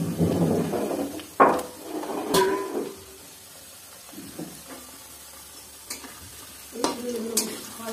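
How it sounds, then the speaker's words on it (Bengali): Potatoes fry in a pan at a family picnic, a steady sizzle under repeated clattering stirs and scrapes of a spatula, with louder knocks at the start and near the end. "আর এদিকে আলু ভাজা হচ্ছে।"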